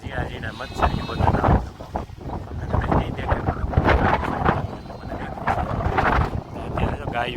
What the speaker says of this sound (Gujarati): અત્યારે તો પવન એટલે જોરદાર ઉપડી ગયો છે